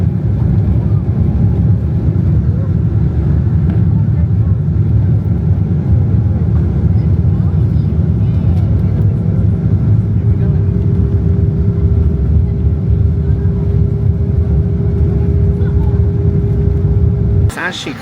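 Passenger jet taking off as heard from inside the cabin, a loud, steady, broadband engine roar that holds constant with a rising tonal whine partway through, ending abruptly.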